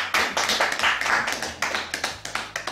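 Applause acclaiming God during a wedding ceremony on the path to heaven, a close, steady run of hand claps in quick rhythmic bursts, loud and alone without talk.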